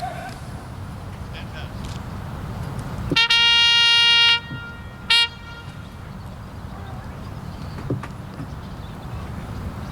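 A bugle plays the brief two-note parade rest call at a military ceremony, one long held tone then a short blip, heard at a distance over steady outdoor crowd noise.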